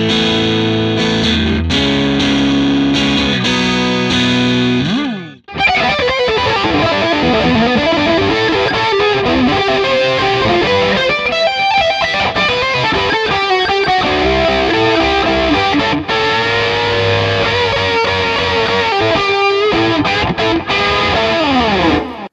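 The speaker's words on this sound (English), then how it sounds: "Now we've got an AC30 style sound, so let's rock some British tones." Overdriven electric guitar through an AC30-style amp model on a Digitech iPB-10 plays a driving riff with chords and lead runs, a brief pause early on, then continuous gritty, full-bodied tone.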